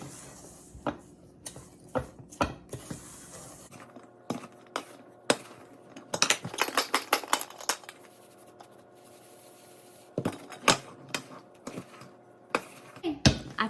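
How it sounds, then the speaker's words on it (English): Homemade double chocolate cocoa mix stirred with a spoon in a bowl, giving sharp, irregular scraping and clinking strokes in bursts, with quieter pauses between. "put it in this bowl that's a little easier to get my spoon into, and we're just going to mix this up"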